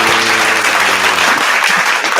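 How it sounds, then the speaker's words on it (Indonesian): Steady, loud applause fills the air, a dense wash of many hands without a break, as a guest is welcomed during an online personal finance talk session; a low hum and a faint voice sit underneath. "virtual tepuk tangan yang meriah"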